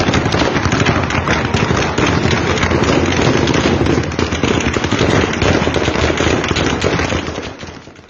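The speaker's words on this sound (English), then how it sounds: "The streets of the Iraqi capital, Baghdad, have erupted into gunfire and mortar fire" Dense, rapid bursts of gunfire crackle and pop continuously in the streets of Baghdad, loud and chaotic, with heavier mortar thuds mixed in before fading near the end.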